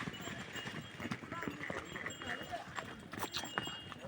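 Donkeys walk past on a hillside trekking path, their hooves clip-clopping in a steady, fairly faint patter, with voices talking nearby and light ambient noise.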